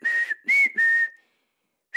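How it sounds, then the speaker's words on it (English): A melodic whistled phrase from a song: three clear sustained whistled notes close up, then a pause and the start of another note. "You know the song, the one with that irritating bit of whistling."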